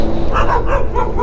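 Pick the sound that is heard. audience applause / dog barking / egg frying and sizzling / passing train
dog barking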